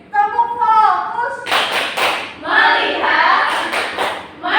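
A fourth-grade class does a rhythmic group clap routine after a short sung chant, the claps arriving in loud, sharp bursts mixed with children's voices chanting along.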